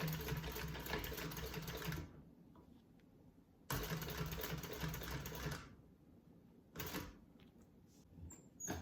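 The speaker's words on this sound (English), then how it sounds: "I'm going to sew across the top here. I'm actually going to back stitch right there." A sewing machine stitching across the top of a black wallet, with bursts of rapid mechanical whirring and brief pauses between runs, close and clear with no talking.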